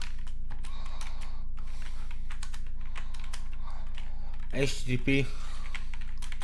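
A computer keyboard clatters with quick, irregular keystrokes while someone sets up a proxy in a Node.js and React project's package.json. Someone talks continuously over the fairly close, moderately loud clicking.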